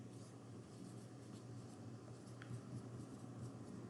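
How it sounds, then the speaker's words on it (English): Marker squeaking and scratching steadily across a whiteboard while a science lesson is drawn out, soft continuous strokes close up with no talking. "So I'm going to write"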